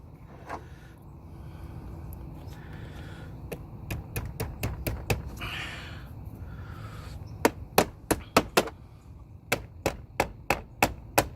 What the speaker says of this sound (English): I'm gonna finish maybe pounding it a little bit more.